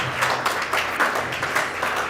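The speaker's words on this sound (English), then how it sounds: "Please let me give him another round of applause." An audience at a college research-center launch event applauds steadily, a dense patter of many hands clapping at moderate volume throughout.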